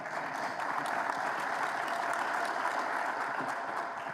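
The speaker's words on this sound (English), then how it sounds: "okay, we can clap." Audience applause fills a business meeting of the AMAC airport association, a steady, dense wash of clapping from many hands that holds evenly for about four seconds with no talking over it.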